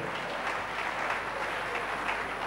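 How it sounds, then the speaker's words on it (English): Steady congregational clapping for Jesus during a church service, an even, continuous round of hand claps from many people with no voices over it. "Give Jesus a clap of him."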